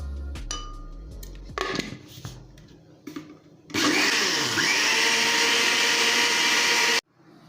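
After some clinks of bowl and utensils, an electric mixer starts up with a loud, steady whirring drone. It whisks eggs, sugar and margarine for bread dough for about three seconds, then cuts off abruptly.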